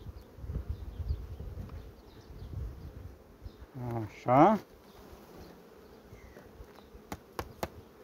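A low, steady hum of honeybees buzzing close by in a hive, with a short burst of brighter sound and a brief spoken word partway through.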